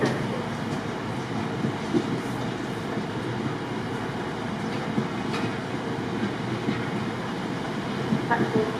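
A passenger train at Stafford railway station rumbles steadily as it runs through the platform, with a broad continuous roar of wheels on track and faint clatter.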